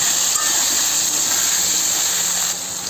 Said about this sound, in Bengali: এবার তেলের মধ্যে আলুগুলো ছেড়ে দেবো।